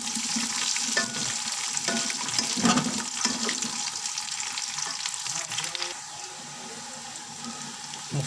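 Whole dry red chillies with garlic fry in hot oil for a biryani, a steady close sizzle with occasional stirring scrapes and clinks throughout.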